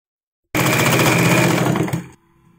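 Sewing machine stitching a churidar seam downward, a steady dense mechanical whir lasting about a second and a half, then slowing and stopping, leaving a faint low hum.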